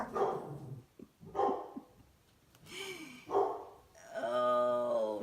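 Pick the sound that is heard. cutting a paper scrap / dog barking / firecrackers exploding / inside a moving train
dog barking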